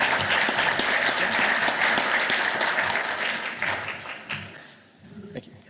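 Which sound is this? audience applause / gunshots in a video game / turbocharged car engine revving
audience applause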